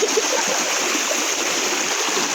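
Rushing stream current at a team-building outing, a steady close broadband wash of flowing water filling the short moment.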